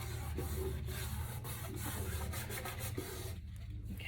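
Steady rubbing on a guitar body, a continuous close scuffing and brushing texture with soft repeated strokes, fairly faint and without talk.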